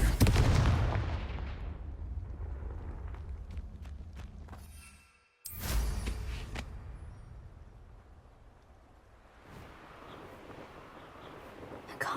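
Loud spell blasts from the Confringo fire charm in the video game Hogwarts Legacy: a heavy explosive burst opens, then a sharp second detonation mid-way after a brief hush, with rumbling debris trailing off.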